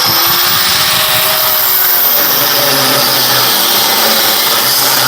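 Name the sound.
cutoff wheel cutting metal on a Corvair motor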